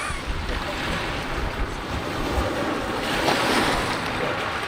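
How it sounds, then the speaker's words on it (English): Strong wind roars and buffets across the microphone on a beach, a dense continuous rush with surf-like swells that builds slightly louder toward the end, with no clear voices. "the wind has really picked up"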